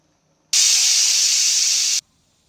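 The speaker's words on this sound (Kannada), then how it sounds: "1 ವಿಸಲ್ ಬಂದಿದೆ." A pressure cooker whistle, cooking egg pulao, lets out a single loud, steady hiss of escaping steam lasting about a second and a half, then stops abruptly.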